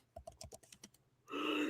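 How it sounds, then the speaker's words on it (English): Typing on a computer keyboard comes first as a quick run of about eight separate key clicks, close and distinct. It is then cut off by a louder burst of rushing, noisy sound. "I hear typing, AG."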